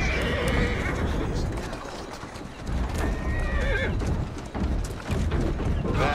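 A horse neighs and whinnies amid clip-clopping hooves in the video game Assassin's Creed Syndicate, with a person talking over the busy, continuous sound.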